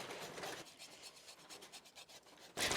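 A knife scrapes a slab of pork belly skin clean in a quick series of short rasping strokes, faint and close. A louder scrape or rustle comes at the very end.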